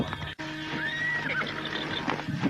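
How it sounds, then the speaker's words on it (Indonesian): A horse neighs in a long whinny with a rising and falling pitch, close and fairly loud, over a low steady background, in the style of a radio drama sound effect. "menapak keras kuda yang ditunggangi Rakyan Bangar."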